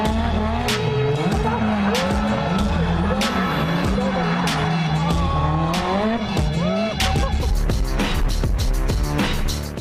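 Drifting cars at a D1 drift demonstration during Tokyo Auto Salon, with loud continuous engine roar and rising, wavering revs, tire squeal and skidding throughout, dense and close, ending in sharp bursts.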